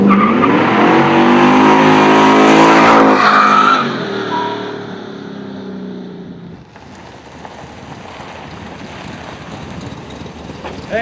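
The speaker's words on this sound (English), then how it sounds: "It's got a 1970 LT1 350, a 4-speed transmission, and a 355 rear end, and I'm just out having fun." A 1970 car with an LT1 350 V8, 4-speed transmission and 355 rear end revs hard and loud up close, with harmonic engine roar that climbs then drops away into a fainter steady rumble.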